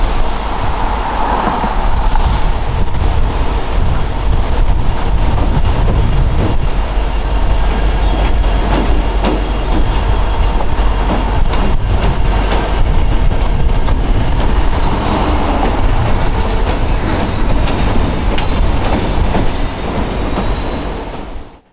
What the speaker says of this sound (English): we caught the train passing over Lance Falls